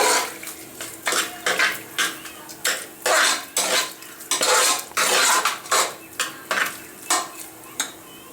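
A spoon scrapes and clinks against a bowl in a steady, repeated rhythm while mixing thick, wet curd rice, close up, no voices.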